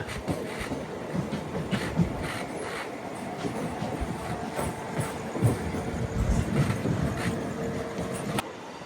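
The 17259 Nellore to Vijayawada MEMU Express running along the track, a continuous rumble with rhythmic wheel clatter heard from inside the carriage.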